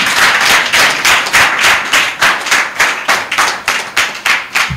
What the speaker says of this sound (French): le tout-puissant président Toto, que je vous demande d'applaudir.